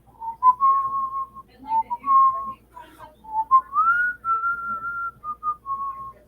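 A single person whistles a lilting tune up close, with phrases of sustained and sliding notes separated by short breaths.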